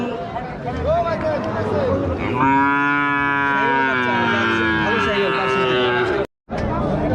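A cow at a busy cattle market lets out one long, loud moo close by, lasting a few seconds, with crowd chatter and voices of people around it.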